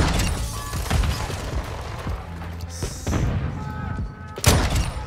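Sniper rifle fire in a Call of Duty match, a weapon resembling an AWP with a high-zoom scope, giving several loud sharp booms among game noise and effects, with a few spaced blasts and no clear speech.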